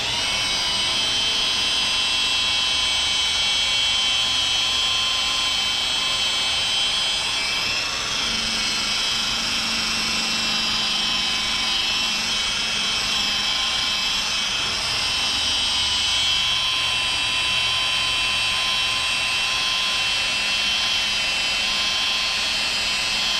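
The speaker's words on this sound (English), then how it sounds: "Polisher's always under control. I'm never throwing it around or stabbing it." A rotary polisher runs continuously against car paint during a paint correction, giving a steady high-pitched whine with a faint, shifting hum underneath and no pauses.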